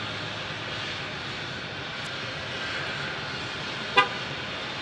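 An airliner in special livery at Phoenix Sky Harbor produces a steady, moderate jet engine roar throughout, with a short horn-like toot near the end.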